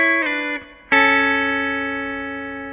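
Sustained electric guitar double stops, likely with distortion, from a song lesson: a brief chord, a short slide, then a loud ringing chord that decays slowly, played alone with no talking.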